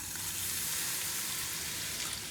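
Broth hitting a hot pan of toasted pepper, a steady bright sizzle that holds evenly throughout, close and fairly loud with no talking.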